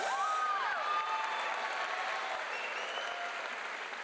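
Applause from a large crowd at a university engineering graduation ceremony, a dense, continuous wash of clapping that stays fairly distant and steady throughout.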